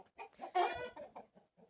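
Close chickens cluck in short bursts, with one rooster letting out a brief strained crow in the middle, all fairly quiet and without talking.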